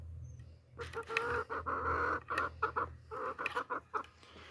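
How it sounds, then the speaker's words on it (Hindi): Chickens on a farm, just let out of their coop, clucking busily and repeatedly in a close, loud flock with a steady low hum behind them. "मुर्गियाँ मैंने छोड़ दी हैं।"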